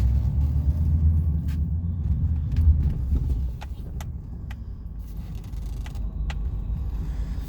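A Chevrolet Silverado CNG truck drives off-road in four-wheel drive, its steady low engine and drivetrain rumble continuous and close, easing slightly midway, with a few faint knocks and clicks over the drone.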